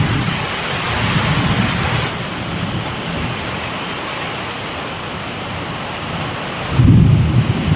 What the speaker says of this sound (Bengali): বৃষ্টি এখন অঝরে চড়ছে।